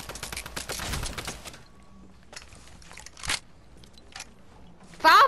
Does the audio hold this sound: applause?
no